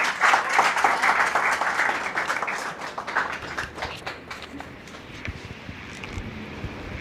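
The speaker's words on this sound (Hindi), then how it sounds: "एक बार जोरदार तालियां गौरव समिति के लिए।" An audience claps after a Hindi poetry recital, the applause loud and dense at first, then gradually thinning into scattered claps as it fades out.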